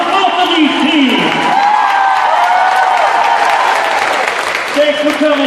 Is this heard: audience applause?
yes